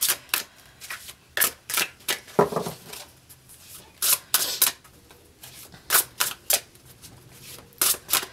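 Tarot cards are shuffled in a string of short, crisp riffling bursts, close by, with brief pauses between them.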